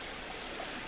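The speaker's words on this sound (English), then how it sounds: "Here's another little creek" A small creek flows along the Lake Isabel trail, a steady, soft broadband rush of trickling water with no voices, even and continuous throughout.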